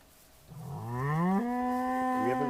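A single long video game cow moo in Towncraft swells in pitch and holds steady, close and clear, with a small wavering at the end and no voices.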